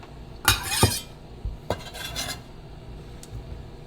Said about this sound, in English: cut it into little chunks on your cutting mat